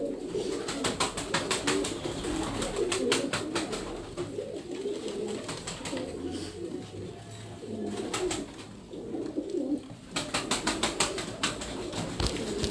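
Pigeons coo steadily and close by in a rooftop loft in Larkana, Sindh, with soft overlapping calls throughout and bursts of brighter rustling or flapping at the start and end.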